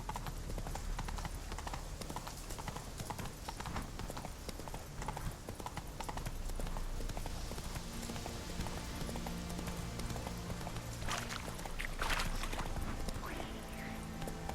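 The horse Roach gallops in The Witcher 3: Wild Hunt, a steady, close rhythm of hoofbeats continuing for the whole stretch, with a faint whinny and some ambient rustle beneath.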